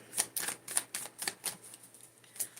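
Tarot cards are shuffled close up in a quick series of soft, crisp riffling flicks at an uneven rhythm, quiet and with no talking.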